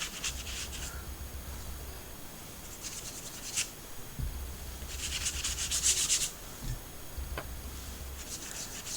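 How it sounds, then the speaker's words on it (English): A brush wets watercolour paper secured to a table, giving soft, close scratchy rubbing strokes in intermittent bursts, faint and quiet with small taps between. "I'm going to take my paint palette and just start to wet the paper"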